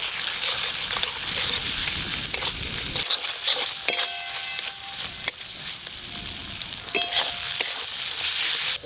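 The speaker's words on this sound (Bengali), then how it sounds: "এদিকে আমার মশলা কষানো প্রায় হয়ে এসছে।" Spice paste of ginger, garlic and onion with cumin, dried chilli paste, turmeric and salt sizzles steadily in oil while being stirred and scraped, close and continuous with no talking.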